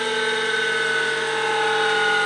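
A bench grinder used for sharpening drill bits hums with a steady, high motor whine as it spins, heard alone without talk.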